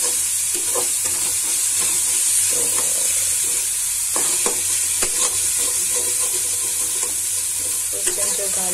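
Cabbage stir-frying in a pan with onion, ginger and garlic, a steady close sizzle broken by repeated scraping and stirring clatters throughout.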